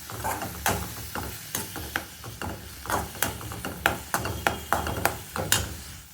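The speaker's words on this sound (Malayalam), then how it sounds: "ഇത് നമുക്ക് സവാളയിലേക്ക് ചേർത്ത് കൊടുക്കാം എന്നിട്ട് അത് നന്നായിട്ട് മിക്സ് ചെയ്ത് കൊടുക്കാം" Mushrooms being stirred into onions in a pan for a mushroom roast: repeated scraping and clattering strokes of a spoon against the pan in a steady, uneven rhythm, close and fairly loud, over a soft background sizzle.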